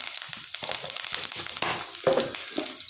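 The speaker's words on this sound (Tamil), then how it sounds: "இதெல்லாம் நல்லா பொறிக்கட்டும்" Curry leaves and other ingredients fry in hot oil in a pan for chana dal dumpling kuzhambu, with a close, steady sizzle broken by soft stirring scrapes.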